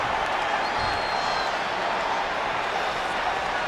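Home arena crowd in the WWE 2K20 wrestling video game, a continuous wash of cheering and crowd noise holding steady at a fairly loud level throughout.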